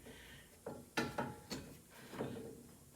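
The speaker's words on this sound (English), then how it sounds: "I'm just using this chintzy little cheap caliper turn back tool. And these calipers are turning back real easily." A cheap caliper turn back tool presses the front brake caliper piston back on a 2005 Ford Five Hundred, producing a series of close, quiet ratcheting clicks and metallic creaks in an irregular rhythm.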